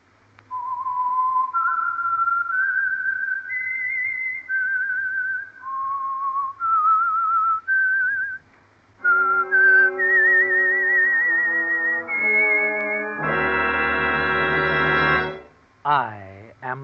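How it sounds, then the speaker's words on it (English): The signature whistled theme of the radio mystery program The Whistler, sponsored by Signal Oil: a lone, clear melodic whistle of rising and falling notes, followed by a swelling orchestral chord and closing flourish. "the signal to listen for is this whistle that identifies the Signal Oil program"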